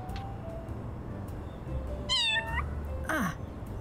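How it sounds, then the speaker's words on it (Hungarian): A cat meows twice in the video game Little Kitty, Big City: two short, clear, pitched meows over quiet game ambience, the second one sliding downward. "Tudunk nyávonni."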